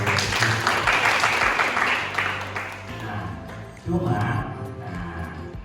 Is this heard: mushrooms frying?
no